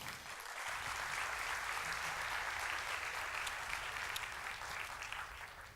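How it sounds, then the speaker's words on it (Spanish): Continuous applause from the audience at a TESO 2016 talk, steady and moderately loud throughout with no speech on top. "regálense un aplauso"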